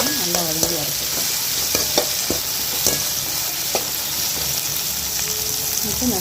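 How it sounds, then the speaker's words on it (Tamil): Tomatoes sautéing in a pan for a pepper chicken fry, a continuous close frying sizzle with a spoon scraping and tapping now and then; faint voices murmur underneath. "தக்காளியை சேர்த்துட்டு அதையும் சேர்த்து நல்லா வதக்கி வைக்கணும்."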